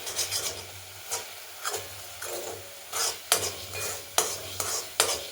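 A thickening mixture is stirred in a pan with a spoon scraping the base in rhythmic rasping strokes, about one every half second to second, close and clear with no speech.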